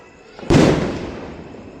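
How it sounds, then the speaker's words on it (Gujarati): One sky shot firework bursts with a sharp, loud boom during Diwali night celebrations, then its crackling roar fades slowly over a quiet, hissy background. "સ્કાય શોટ વાગે."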